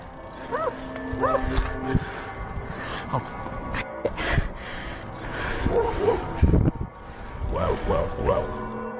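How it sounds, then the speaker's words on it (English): Dogs bark in short bursts amid a busy outdoor scene with lowing cattle, the barks mid-distance and recurring at intervals. "he hears barking behind him and the chase is on again"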